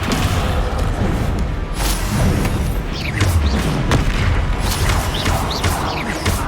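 Spell impacts from the Descendo slam in Hogwarts Legacy land as repeated booms and thuds over a dense, continuous layer of game combat noise.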